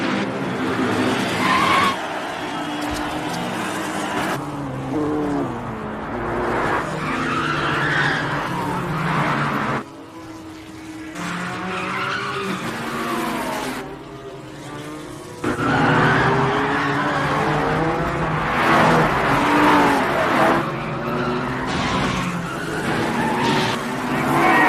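Racing cars at the start of a race roar and screech, engine drone and tire squeals swelling and cutting off in loud bursts with brief quieter gaps.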